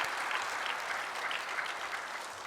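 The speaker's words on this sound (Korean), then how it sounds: "감사의 박수 드립니다" A church congregation applauds after a testimony, giving a dense, even wash of clapping that is soft and distant, with no talk.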